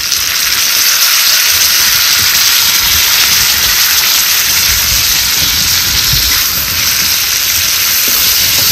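Chopped tomatoes hit a pan of fried onions, cooking for a village-style bhaji, and give off a loud, steady broadband sizzle that holds without a break, with no voices.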